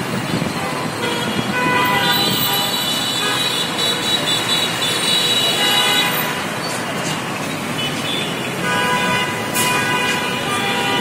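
Busy road traffic at the Mirpur 10 roundabout on the bridge beneath the metro line: a continuous close rumble of vehicles with repeated honking horns cutting through, steady and loud for the whole stretch.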